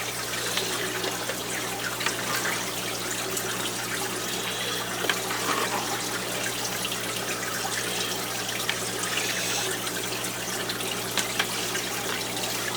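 A kitchen strainer sweeps through aquarium water to scoop out floating masses of duckweed, producing continuous close splashing, trickling and dripping with no pauses.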